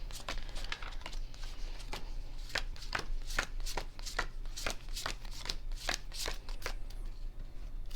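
A deck of game cards for a Harry Potter Hogwarts Battle board game is shuffled repeatedly, quick crisp riffles and snaps in an irregular rhythm, close and fairly quiet.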